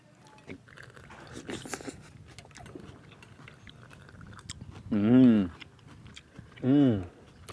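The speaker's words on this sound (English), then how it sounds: "The crunch of the onions and the peppers." Chewing a mouthful of local lagoon fish with crunchy onions and peppers in creamy coconut milk, a Garifuna dish from Central America. Close, wet crunching bites are followed by two loud hummed vocal sounds of enjoyment.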